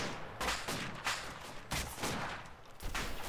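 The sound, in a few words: gunfire in the video game ArmA II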